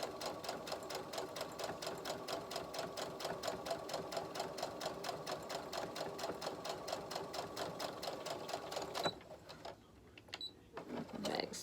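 A sewing machine stitches a face mask with a filter pocket in a fast, steady mechanical chatter for about nine seconds, then stops briefly before a short burst of stitching resumes.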